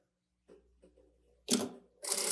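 Sewing machine running a short stitch on fabric for a bag that converts into a toiletry pouch, two loud close bursts of motor whir after quieter handling noises.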